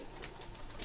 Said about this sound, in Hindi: लाटू कबूतर।